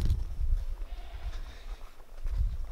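Goats bleat close by in a homestead chicken yard, with a low rumble under the calls, short and fairly loud.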